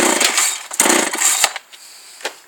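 A chainsaw is yanked with repeated pull-start attempts, giving loud, close rasping bursts that cut off without the engine catching, followed by quieter clunks.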